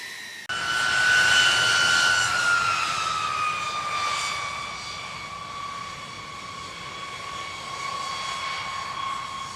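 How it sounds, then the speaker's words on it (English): Boeing B-52 Stratofortress bomber, eight jet engines in four twin underwing pods, roaring loudly with a rising then slowly falling whine as the aircraft passes, continuous broadband rumble throughout and no voices. "It is powered by 8 jet engines mounted under the wings in 4 twin pods."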